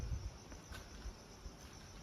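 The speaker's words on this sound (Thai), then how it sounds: "นี่มันมี แมลง อะไรนะบินเต็ม เลย นะครับ" Dense insect buzzing and chirring fills the air around an abandoned house in Thailand, a steady low-level drone with faint flutters, heard alone without voices.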